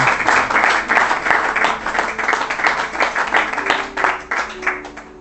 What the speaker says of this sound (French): S'il y a les couples, ils peuvent quand même applaudir.